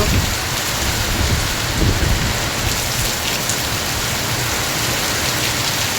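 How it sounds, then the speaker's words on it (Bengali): Heavy rainstorm in Malaysia pouring steadily, a dense, loud wash of rain drumming on surfaces with a low rumble underneath, no voices. "ঝড় উঠে গেছে বন্ধুরা"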